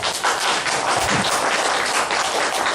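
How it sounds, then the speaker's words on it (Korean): Lecture audience on Buddhism applauding together, a dense steady wash of many hands clapping at even loudness for about three seconds, with no voices over it. "해 줘야 되겠다고 생각하면 박수 한번 쳐주세요."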